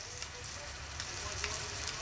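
Tilapia fillets frying in a pan, a steady bright sizzle with small pops and crackles, close and continuous, with faint background hum.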